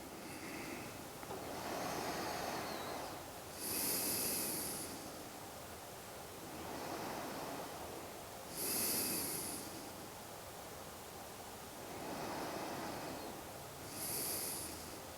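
Slow, deep yoga breaths, each long inhale followed by a steady exhale, about three cycles close to the microphone in a quiet room.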